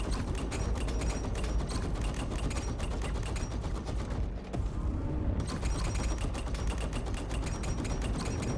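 Sustained rapid ballistic gunfire aimed at a Hornet ship in a space combat game, a dense loud continuous burst with a brief lull midway before firing resumes.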